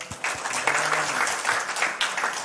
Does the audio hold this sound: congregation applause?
yes